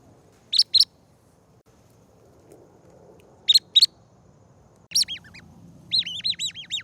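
Birds give short, bright chirps in two quick pairs, then a louder run of warbling, rising calls near the end, heard alone over a soft low background hum.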